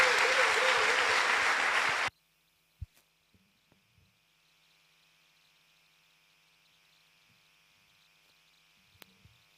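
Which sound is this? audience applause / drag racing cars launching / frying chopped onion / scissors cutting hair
audience applause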